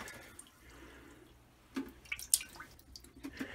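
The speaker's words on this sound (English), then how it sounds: "just dump all the dirty water right into a bathtub," Dirty water from a Rainbow D3 canister vacuum is tipped into a toilet, giving quiet faint trickles followed by a few sharper splashes and drips, close by, with no talk.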